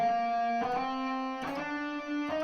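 Electric guitar playing a chromatic pattern picked in a short-long rhythm, clear sustained notes changing pitch in uneven pairs, close and alone with no talking.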